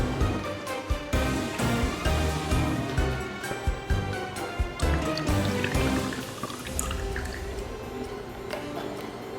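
Oat milk is poured into a tea latte in a few short bursts of close, soft splashing and dripping, with small clinks and pauses between pours.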